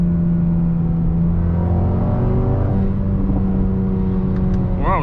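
Mercedes-AMG A35 engine revving as the car accelerates, a loud continuous roar with pitch climbing and a shift-like break partway, ending in a rising rev burst.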